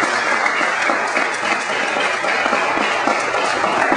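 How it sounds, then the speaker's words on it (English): Steady, dense applause from an audience at a NAACP youth council installation ceremony, continuous and loud throughout with no speech. "I think you guys deserve a round of applause for that"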